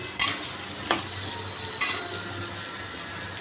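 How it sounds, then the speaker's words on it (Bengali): Something fries in a pan before ridge gourd is added, a constant sizzle with a few sharp clinks of a spoon stirring against the metal, and no talking. "এগুলো লাল করে আগে ভেজে নিই তারপরে ঝিঙেগুলো দিয়ে দেবো"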